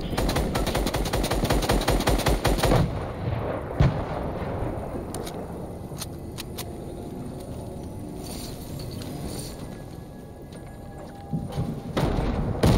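Rapid automatic gunfire from the video game Fortnite rattles loudly in dense bursts at first, then settles into scattered shots over a constant game background.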